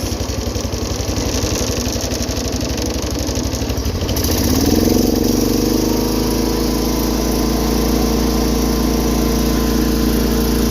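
A small engine on a 210 machine, started without choke, runs with a rapid, loud, buzzing putter close by, then revs up to a steadier, higher drone midway and holds.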